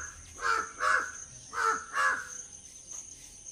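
A crow caws four times in two quick pairs, loud and close, with a brief pause between the pairs over a quiet background.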